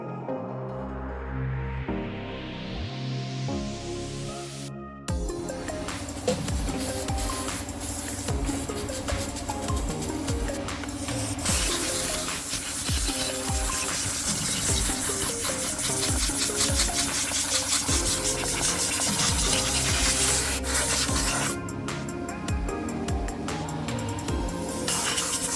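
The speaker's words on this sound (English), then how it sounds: "Just using a drill and a wire wheel just to clean up all this old goo." A power drill fitted with a wire wheel scrubs old goo off parts from a VY Calais restoration. It spins up with a rising whine, then grinds in a harsh, close, continuous scrape with rhythmic strokes.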